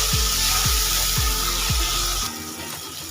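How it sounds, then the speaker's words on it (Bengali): Raw marinated prawns sautéing in spices in a pan, giving a steady broad sizzle with a few rhythmic low thumps from stirring, and the sizzle softening near the end. "এইরকম কাঁচা অবস্থাতেই আমি দিয়ে দেবো মশলার সাথে কষিয়ে নেবো"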